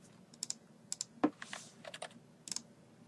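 Keys tapped on a computer keyboard to enter a port number, a few quick clicks in short bursts with pauses between them, close and clear, with no one talking.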